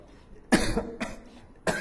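Three short, harsh throat-clearing bursts, close and loud, with brief quiet gaps between them.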